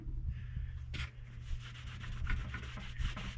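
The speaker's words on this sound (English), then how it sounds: "wipe the area down" A rag with buffing compound rubs over a freshly sanded area, giving a soft, close, repeated scrubbing swish over a steady low hum, with no speech.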